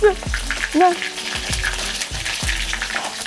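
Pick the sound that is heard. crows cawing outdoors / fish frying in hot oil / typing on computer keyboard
fish frying in hot oil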